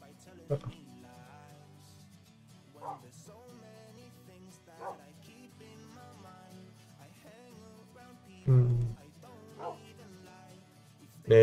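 Dogs in the video game Minecraft bark and whimper in scattered short bursts across a mostly quiet stretch, with a couple of louder barks near the end.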